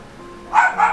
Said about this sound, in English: It's probably Gigi the squirrel she's barking at